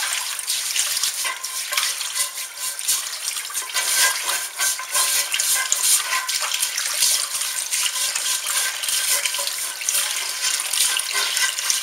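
Hot tap water runs and splashes steadily with a hissing, scrubbing texture as a scrub brush cleans a cast iron skillet, close and continuous for several seconds with no speech.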